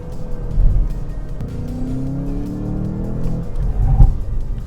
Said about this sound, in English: There is a little bit of road noise penetrating into the cabin in terms of tire noise and wind noise